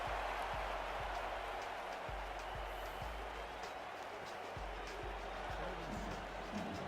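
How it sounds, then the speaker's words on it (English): Home crowd at a Sioux Falls football stadium roaring steadily in a broad, distant wash of cheering, with rhythmic thumps like stomping or drumming underneath. "Sioux Falls crowd getting loud here in their home stadium, trying to will their defense to a stop early in this game"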